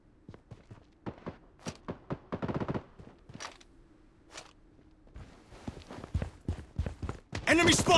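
Gunfire in the shooter Project Bloodstrike: rapid bursts of sharp shots and thuds in quick clusters, with footsteps and game voice callouts mixed in, ending in a loud dense volley.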